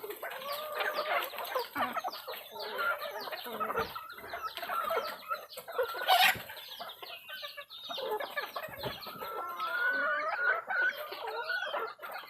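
Kanter and labuyo jungle fowl chickens cluck and crow close by in a busy, overlapping chorus of clucks, squawks and calls, with one brief crow rising above the rest partway through.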